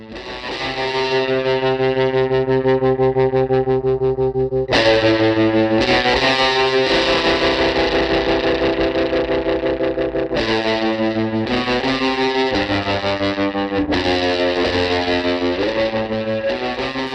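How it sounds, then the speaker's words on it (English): Heavily distorted electric guitar chords through a Magnatone tremolo amp with all knobs up ring out loud and sustained, with a pulsing wavering texture and several sharp changes between chords. "Let's see what happens when we play something through this magnetone."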